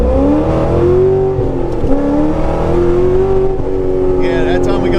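A cammed, manual-transmission Chevrolet Corvette C6 Z06 V8 is held at full throttle, giving a loud, continuous engine roar whose pitch rises and falls, heard from close by with voices underneath.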